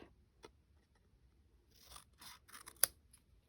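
Several faint snips of scissors cutting paper, spaced irregularly in a quiet room with no talking.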